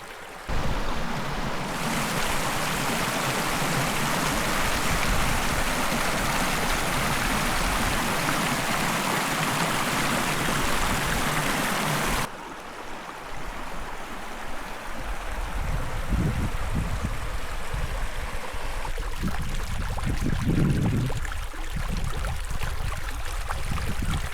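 Flowing creek water in the Sangre de Cristo Mountains rushes loudly and steadily, with a noisier burst of wind on the microphone in the first half before settling into a gentler burble.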